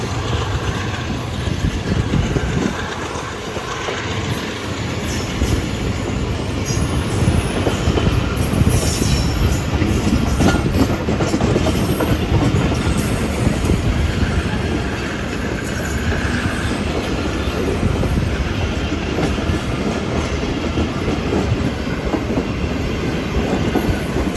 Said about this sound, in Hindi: ज़बरदस्त एक्सीलरेशन EG30 की।